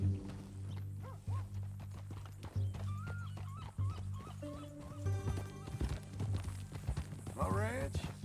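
Horse hooves clip-clopping in Red Dead Redemption 2, a steady walking rhythm up close under ongoing conversation, with a horse whinny near the end over a low musical drone.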